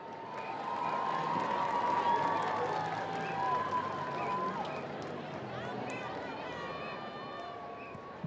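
A football stadium crowd at a Waco High versus University high school game cheers and claps for the highlighters dance team, a broad distant roar under an announcer's amplified voice, with whistles and shouts rising and fading.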